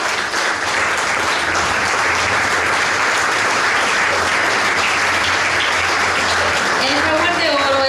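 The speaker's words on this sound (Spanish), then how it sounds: "El aplauso, por favor." An audience at an award ceremony of the Juegos Florales in La Democracia, Escuintla, bursts into sustained, dense applause that stays loud and even throughout, with faint voices rising near the end.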